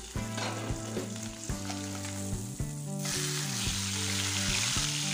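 Pork chops sizzle steadily in a hot frying pan under rhythmic background music, the crackling frying noise growing louder and denser toward the end.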